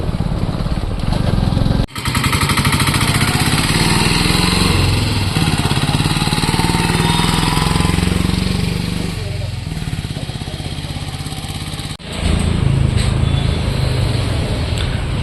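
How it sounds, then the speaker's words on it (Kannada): A motorcycle engine being brought in for repair runs loudly and steadily for about fifteen seconds, with two brief dips, while a person talks over it. "ನಾನು ಬೈಕ್ ತಗೊಂಡು ಇಲ್ಲಿಗೆ ಬಂದಿದ್ದೀನಿ ರೆಡಿ ಮಾಡಿಸೋದಕ್ಕೆ"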